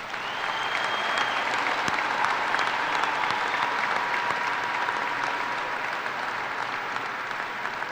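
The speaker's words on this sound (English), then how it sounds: "Let's give them a round of applause." Graduation audience at a high school commencement applauding honor students, steady sustained clapping from a large crowd filling the whole stretch with no break.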